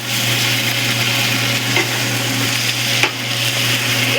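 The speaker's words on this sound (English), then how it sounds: "Sizzling." Chicken pieces fry in a hot pan, a loud continuous crackling sizzle with a low steady hum and an occasional stirring scrape.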